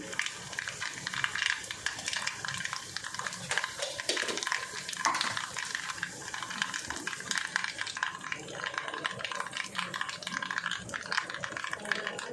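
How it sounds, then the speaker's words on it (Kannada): Mustard seeds spluttering in hot oil for tempering while making tamarind thokku, a faint, busy crackle with light utensil rattles and clinks throughout, nearby and low in level. "ಎರಡು ಸ್ಪೂನಷ್ಟು ಸಾಸಿವೆ ಹಾಕ್ಕೊಂಡೇನಿ ಇವಾಗ ನೋಡಿ ಸಾಸಿವೆ ಆಗ್ಲಿಕ್ಕೆ ಬಂದಿದೆ"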